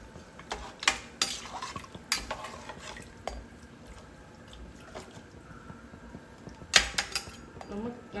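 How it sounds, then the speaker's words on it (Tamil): A spoon clanks and scrapes against a pressure cooker while mutton mandi biryani with rice is stirred, sharp metallic knocks coming in bursts over quieter stretches and faint background sounds. "இப்போ இவ்வளோத்தையும் போட்டுட்டு நல்லா கிளறி விட்டுடலாம்"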